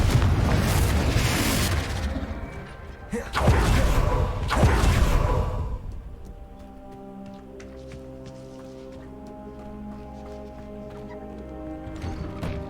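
A Confringo spell explosion in the video game Hogwarts Legacy: a couple of heavy fiery blasts with whooshing bursts, followed by a fading hum of game ambience.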